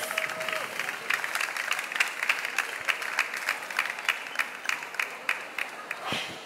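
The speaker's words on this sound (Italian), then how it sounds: "Un applauso!" Audience applause at a busy fair welcomes a talk on foraging and wild edible plants. The clapping is moderate and fairly distant, with crowd murmur under it and distinct individual claps standing out through the roll.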